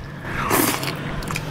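Close, crisp biting and chewing of Thai brown noodles with crunchy bean sprouts at a Bangkok street food stall, one brief crunchy bite swelling in the middle of the chew.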